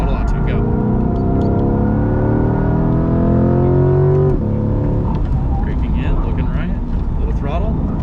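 A Corvette C8 engine drones loudly and rises steadily in pitch as the car accelerates out of a corner on a track, with a clear shift near the middle. A person talks over it.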